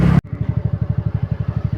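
A motorcycle engine idles close by after a brief voice, its exhaust thumping in a fast, even rhythmic pulse that holds steady without clearly fading away.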